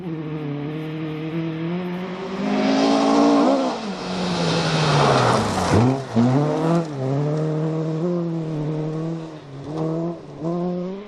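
A Millington-powered 2.5 litre Ford Escort rally car roars close by on a forest rally stage, its engine revving hard with rising and falling gear changes and a loud swell as it passes.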